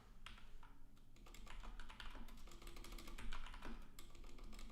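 Rapid keystrokes clatter on a computer keyboard in quick irregular bursts, close and fairly quiet, with no talking over them.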